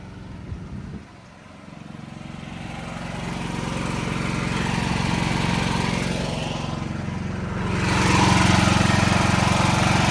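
An emergency generator engine runs steadily during routine testing, a close, continuous engine drone with broadband mechanical noise that swells louder for the last couple of seconds.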